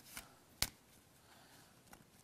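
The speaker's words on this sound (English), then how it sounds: "Do you want to give them a little bit of a shuffle for me?" A deck of playing cards is shuffled in a short burst during a magic trick, with a sharp riffle snap near the start and a fainter flutter of cards after it in quiet surroundings.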